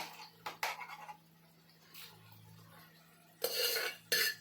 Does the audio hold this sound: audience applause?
no